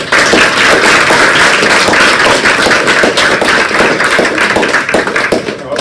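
Audience applause for speakers at an energy forum, a loud, dense burst of many hands clapping that holds steady for several seconds with a few sharper claps standing out.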